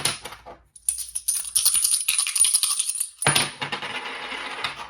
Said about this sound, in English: we've got to toss it 6 times